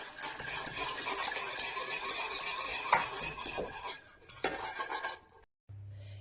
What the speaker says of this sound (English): Then give everything a nice stir, and onto the stove we move.